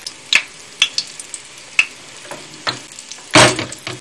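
Bonito fillets are laid one after another into hot oil in a frying pan, giving a steady sizzle broken by sharp crackles and a loud burst of spitting near the end.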